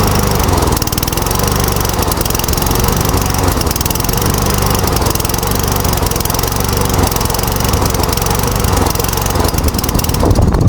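A repaired lawn mower engine runs steadily and loudly for the whole stretch as the carburetor burns off its last fuel, a continuous close-up drone with no talking.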